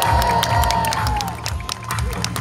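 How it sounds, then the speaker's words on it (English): A crowd claps and cheers at a Pikachu parade on Sentosa, the applause steady and fairly loud with scattered sharp claps, mixed with crowd noise and some talking. "how about a big round of applause for this Pikachu?"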